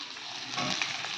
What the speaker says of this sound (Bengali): এখানে আলু বসিয়েছি। আলুটা ভেজে নিই